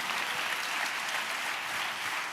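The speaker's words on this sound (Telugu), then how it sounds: "చప్పట్లు కొడుతూ స్తోత్రాలు చెప్దాం." A congregation claps steadily during a church sermon, a dense, even wash of many hands without a break.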